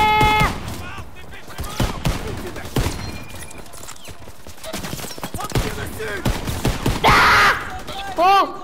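Bursts of gunfire crackle in a war video game, with repeated sharp shots and a denser volley, while players talk over the shooting.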